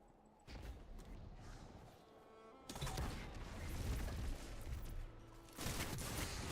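A grenade explodes in a video game shooter amid ongoing gunfire: a broad, heavy burst hits partway through, followed by dense, rattling shots and rumbling that continue to the end.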